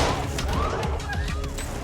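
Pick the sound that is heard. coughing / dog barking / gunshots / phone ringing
gunshots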